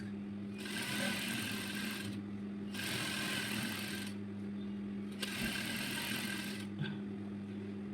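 Sewing machine stitching fabric for a shirred gown, three bursts of rapid whirring stitching, each a second or two long, with pauses between.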